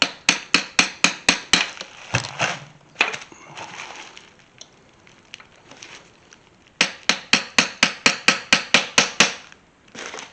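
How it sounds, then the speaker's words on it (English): Hammer taps driving a part into a 1973-87 Chevrolet C10 squarebody pickup's vent window, delivered in two quick, evenly paced bursts of sharp metallic strikes, near and loud, separated by a quieter stretch of rubbing and fiddling. "we'll go ahead and tap that down so far with the hammer, and then you got to get a punch and finish it"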